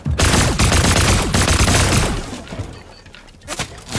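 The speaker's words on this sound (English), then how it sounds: "I'm getting shot at!" Rapid, dense video game gunfire rattles close and loud in a sustained volley, then thins into scattered shots and a couple of sharp final bursts, with no talk.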